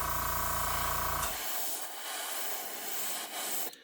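A Gaahleri Aventus airbrush sprays paint for model car fine-line work, giving a steady airy hiss that follows a brief humming buzz and carries on, moderately loud, with small surges in the flow.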